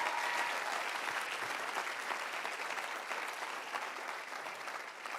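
An audience at a young leaders summit claps steadily for panel members and speakers, a continuous, moderately faint wash of applause that eases slightly toward the end.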